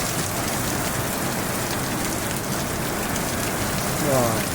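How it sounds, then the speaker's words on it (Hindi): Heavy, dense rain pours down steadily, a loud continuous hiss of drops hitting surfaces close by. "कितनी भयंकर वाली बारिश लग गई"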